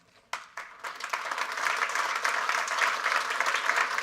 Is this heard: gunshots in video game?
no